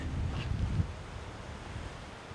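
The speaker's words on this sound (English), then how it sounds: "That's the ocean." Ocean surf on a foggy coast, a low rushing wash of waves mixed with wind buffeting the microphone, louder at first and then settling into a steady, moderate roar with no one speaking.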